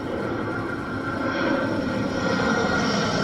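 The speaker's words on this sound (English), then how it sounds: "Let's watch the airplane." Airplane engine roaring steadily at a distance, a broad rumble that grows slightly louder toward the end, with no talking.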